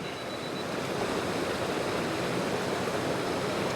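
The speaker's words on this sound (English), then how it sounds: "It's just the water at the bottom of the falls." Steady broadband rush of water churning at the foot of a waterfall in Glen Etive, a continuous close roar with no breaks and no voices.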